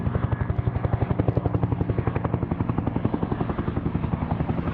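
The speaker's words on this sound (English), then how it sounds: "See that chopper there?" A helicopter flying over the Lake District gives a steady, strong rotor chop of rapid regular beats, moderately loud and sustained from start to finish with no talk.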